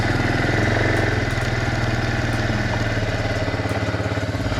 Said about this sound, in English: Let's give it some more gas.